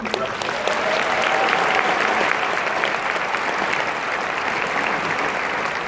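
Commencement ceremony audience gives a round of applause for an Army ROTC color guard, a loud, continuous wash of clapping from a large crowd, steady from start to finish.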